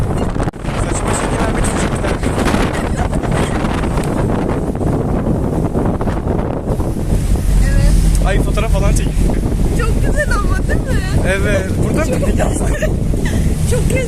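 Strong wind buffets the microphone in a steady roar while a passenger ferry's engine rumbles underneath as it departs Kadıköy, with water sounds and occasional voices in the background.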